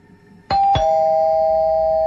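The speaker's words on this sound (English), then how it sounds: "The doorbell rang" A doorbell rings twice in quick succession, a bright ding-dong whose second tone rings on and sustains, loud and close in a quiet indoor room with no talking.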